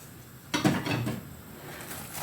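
Onion tumbles into a heated frying pan with oil, starting with a sudden close clatter and burst of sizzling that settles into a softer, continuous frying hiss.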